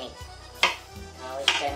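A knife chops cauliflower on a board for pickling, making two sharp cuts about a second apart, close and clear, over faint background noise.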